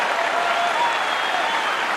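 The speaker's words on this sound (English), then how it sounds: "Listen to the crowd." A baseball stadium crowd at Cincinnati during Game 1 of the 1979 NLCS, Reds versus Pirates, roars and claps in a steady, loud, sustained wash of cheering with no commentary over it.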